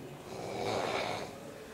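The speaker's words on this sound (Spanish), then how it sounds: "Escuchemos los ronquidos tenebrosos. Con un ciclo repetitivo." Eerie, repetitive snoring at night, one broad rasping breath swelling and fading across the moment, fairly quiet and close with no talking.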